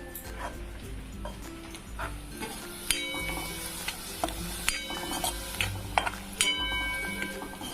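Onion and garlic frying in a pan for a katurle vegetable dish, a steady sizzle under sharp clinks and scrapes of a spoon against the pan, with intermittent louder knocks.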